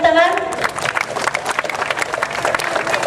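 An audience claps after a book handover at a gathering, a loud, dense burst of applause with some cheering, with a voice briefly heard at the start.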